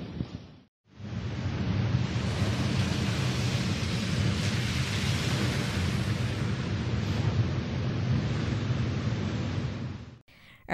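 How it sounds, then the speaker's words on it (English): Storm surf and strong onshore wind gusting up to 55 mph drive seawater ashore at Hampton Beach, New Hampshire, making a loud, unbroken roar that holds steady for about ten seconds before cutting off. "Strong onshore winds up to 55 mph pushed seawater ashore in New Hampshire on Sunday morning"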